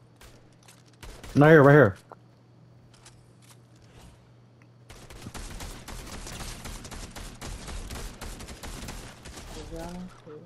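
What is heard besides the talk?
gunfire in the video game Fortnite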